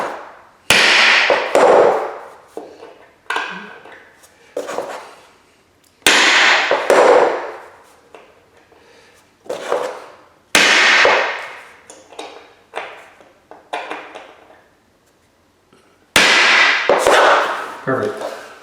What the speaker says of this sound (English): I'll use this pin punch to drive the nail head in so I don't damage the